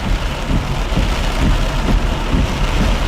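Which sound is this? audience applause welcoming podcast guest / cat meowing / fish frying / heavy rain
heavy rain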